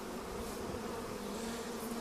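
Bees buzz densely around rebuilt hives, a steady close droning hum with no pauses.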